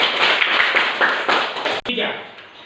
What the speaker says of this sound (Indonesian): kita berikan tepuk tangan lagi untuk kelompok 2